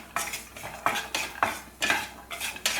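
Poha mixture with cashews roasting in oil while being stirred, a spoon scraping and clinking against the pan in repeated strokes, with a faint sizzle underneath.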